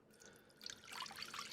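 Dirty water with grass clippings is poured out of the tank of a Tineco Floor One S6 wet-dry vacuum. It makes a soft, close trickle that swells into a steady splashing pour toward the end, with no voices.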